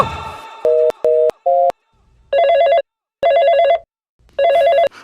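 A telephone ringing unanswered, four loud electronic ring bursts in a steady pattern with short silent gaps between them, alone without talk.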